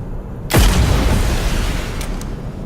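Gunfire striking a large tyrant creature in the PUBG Mobile video game: one loud, booming shot with a long rumbling tail, followed by a faint pair of sharp clicks.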